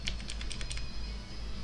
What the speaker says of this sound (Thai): โดยเฉพาะเสียงคีย์บอร์ดของผม มันใกล้ไมค์มากเลยนะ